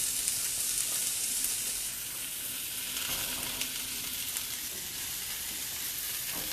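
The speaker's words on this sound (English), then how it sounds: "the asparagus takes a little bit longer to cook than the onions and squash, so that's going in first" Asparagus sizzles in a hot pan, a steady close frying hiss with faint crackles and a brief stir or two, no voices.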